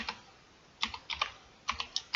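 Several bursts of quick keystrokes clacking on a computer keyboard while working in a spreadsheet, in two short clusters separated by a pause, close and fairly clear.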